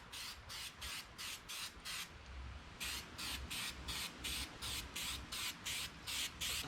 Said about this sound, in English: I'm going to stick it to the log with the 3M spray adhesive.